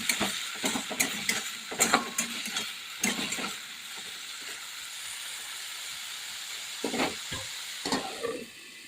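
Salted vegetables fry lightly in a wok, with a steady sizzle under repeated rhythmic scraping strokes of a spatula, busy at first, quieter in the middle, then a few more stirs near the end, with no speech.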